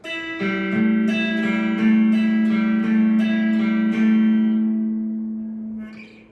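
A plucked guitar sounds individual notes one after another in a steady picking pattern, ringing and sustaining, then fading out at the end.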